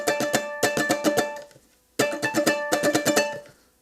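Ukulele riff with the top two strings lightly muted by a finger, two short bursts of quick percussive plucked notes separated by a brief gap, close and dry, no talking.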